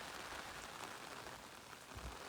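Heavy rain pours down in Anand, Gujarat, a steady, even hiss of drops with no talking and only a few faint low thuds.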